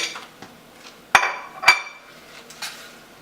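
Metal utensil clinks and scrapes against a cooking pot while garlic and other ingredients for a smoked tomato chutney are stirred, a few sharp knocks among quieter scraping, close by.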